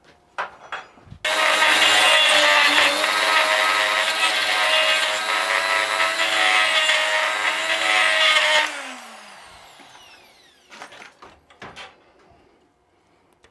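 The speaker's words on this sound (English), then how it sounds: "there's enough once taken out to warrant using the die grinder" A die grinder works a steel inlet manifold from a 1930 Peugeot, giving a loud, sustained high-pitched grinding whine for about seven seconds before it cuts off and spins down, followed by faint workshop knocks.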